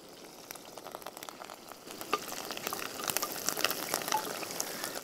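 Dried red chillies and curry leaves fry in hot oil for a chicken dish, starting as a soft crackle and building into a denser, louder spitting sizzle heard up close, with no one talking.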